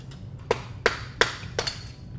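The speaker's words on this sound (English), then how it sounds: "Use a screwdriver and hammer to loosen the preload collars." A hammer strikes a screwdriver to loosen the preload collars on a Can-Am Maverick XRS shock: four sharp metallic taps with a slight ring, evenly spaced about a third of a second apart, close by.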